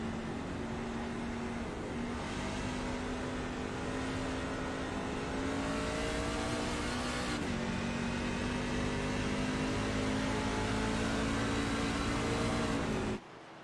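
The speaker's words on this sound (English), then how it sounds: "did I hear a little downshifting there? Did he downshift in that turn?" Race truck engine in a sim racing game at New Hampshire, droning loudly and steadily with a pitch dip around midway as it shifts down for a turn, then cutting off abruptly at the end.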